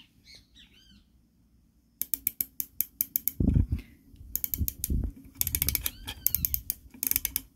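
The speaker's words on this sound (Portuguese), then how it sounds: "Então eu vou mostrar para vocês aqui os cliques que tem da 4x32 aqui" A rapid series of sharp mechanical clicks close up from the turret of a 4x32 rifle scope being adjusted, coming in quick bursts with brief pauses; faint birdsong in the background.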